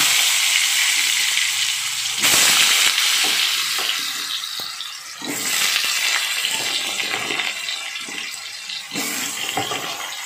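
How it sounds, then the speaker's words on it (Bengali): Potatoes stirred and fried in hot oil in a wok, a steady loud sizzle broken by scraping stirs, with bursts of harsher crackle as the pieces are turned. "আমি কিন্তু ওই কড়াতেই আবার আলুগুলোকে একটু নেড়ে নিচ্ছি।"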